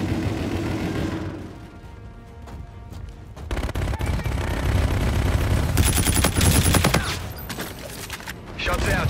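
Sustained gunfire from the video game Call of Duty Infinite Warfare in a team deathmatch on the Precinct map, a dense continuous battle din of rapid automatic bursts and booms, loud and steady throughout, with faint game sounds between volleys.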